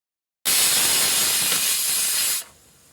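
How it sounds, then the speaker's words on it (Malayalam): A pressure cooker cooking cleaned prawns lets out a loud, steady steam hiss that starts abruptly, holds for about two seconds, then drops to a faint trailing hiss. "ഇനി അതൊന്ന് കുക്കറിൽ വേഗിച്ചെടുക്കാം കേട്ടോ"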